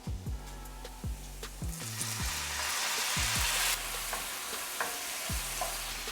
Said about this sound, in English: we're gonna add some red wine to deglaze the pan